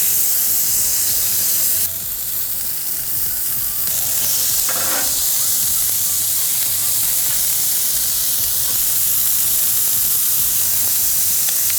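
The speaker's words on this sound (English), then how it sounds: "All right, time to get the burgers down." Thick wagyu burger patties hit a low-heat grill and set off a steady, loud sizzle that keeps going without a break. A brief hiss of steam flares up partway through.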